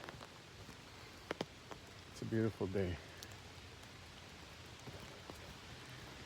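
Steady rain falling outdoors during a walk, a constant soft hiss of drops all around, with someone speaking briefly over it and a few light taps nearby.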